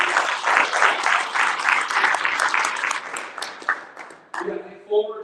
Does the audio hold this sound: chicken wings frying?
no